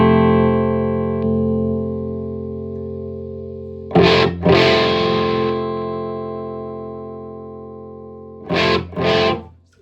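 An electric guitar played through Boss BD-2 Blues Driver overdrive pedals, sustained overdriven chords ringing out and slowly fading, broken by two pairs of sharp strummed hits, loud and close with no talking.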